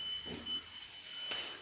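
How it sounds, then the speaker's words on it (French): Inside an abandoned hotel, a faint electronic alarm beeps in short, regular pulses over low background hiss. "Il y a comme une alarme ici."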